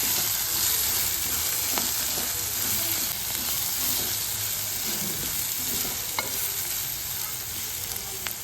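Cluster beans with turmeric, for a sesame-powder fry, sizzle in a pan, a steady close frying hiss with occasional clicks of a spoon stirring and scraping.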